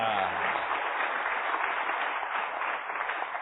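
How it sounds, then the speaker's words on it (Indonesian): Congregation at a church service claps for Bapak Herman, a brief, steady burst of applause heard through band-limited, somewhat muffled sound after a voice at the start. "Berikan tepuk tangan Bapak Herman"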